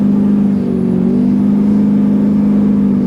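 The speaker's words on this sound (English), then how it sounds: "I just accelerate easily" An LBZ Duramax pickup pulls ahead under gentle, roughly half throttle, a loud steady engine drone with a smooth even hum and no change in pitch over a few seconds.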